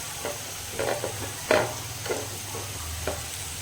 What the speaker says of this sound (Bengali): এখন এখানে ডিমের মশলা কষানো হচ্ছে